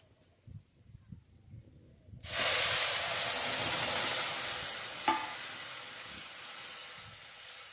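After quiet moments, milk is poured into hot masala for a drumstick (shevga) curry and bursts into a loud, sustained hiss. The hiss slowly eases, with one small clink partway through.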